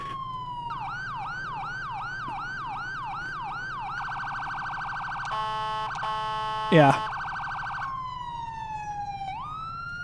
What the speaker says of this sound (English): next thing we're going to check is our Siren, see if our Siren is working that we installed